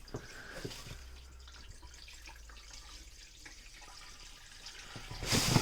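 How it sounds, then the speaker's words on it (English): Water trickling and gurgling back down the skimmer line of a large koi pond on a rainy day, a soft, steady flow heard up close that swells into a louder rush near the end. "It's flowing back down the skimmer line."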